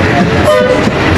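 A bus horn blares steadily for about a second over a rumbling vehicle and road noise in Sri Lanka, loud and close.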